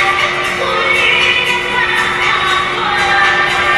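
Large crowd of BINI fans cheering and shouting at a brand launch event for the girl group, a steady loud roar with scattered higher shrieks throughout, no clear pauses.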